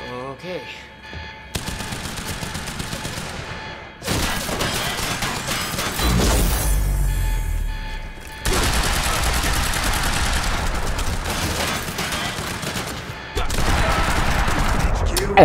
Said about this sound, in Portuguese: Tanto tiro e não morre, meu.